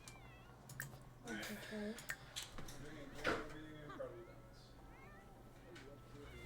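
A cat meowing in The Sims, several drawn-out meows rising and falling over a few seconds, with a person speaking briefly nearby.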